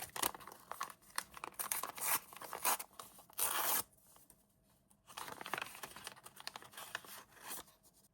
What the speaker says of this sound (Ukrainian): зараз будемо відкривати пакетик